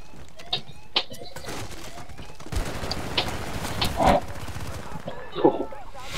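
Rapid bursts of automatic gunfire and single shots in the video game Call of Duty Cold War, fairly loud and repeated, with players talking over the action.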